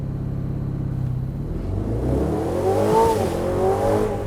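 A 2026 Aston Martin Vantage Roadster launching from a race start, its engine note rising into a loud, swelling rev with rumbling drive, heard from inside the car with no one speaking.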